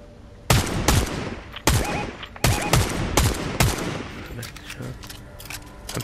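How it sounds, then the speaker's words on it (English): Bursts of gunfire in the video game Fortnite ring out in several sharp volleys, loud and close, with quieter shots trailing off later under a steady game background. "I'm shooting him."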